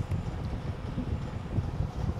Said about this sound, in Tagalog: Baka marinig nyo yung hangin ng electric fan ko.